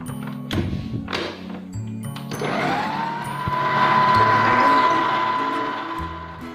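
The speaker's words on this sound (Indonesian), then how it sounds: "kemudian mixer hingga lembut dan memutih. Mixer dengan kecepatan tinggi ya." After a few hollow thumps, an electric hand mixer starts up and beats butter and sugar at high speed. Its whirring motor drones steadily and swells louder before easing slightly.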